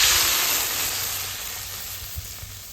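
Water hits spiced Malabar spinach stalks frying in a pan, setting off a loud, steady broadband sizzle that slowly fades over a few seconds, with a couple of faint clinks near the end.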